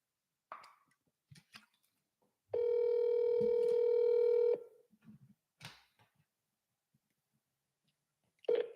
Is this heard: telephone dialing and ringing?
yes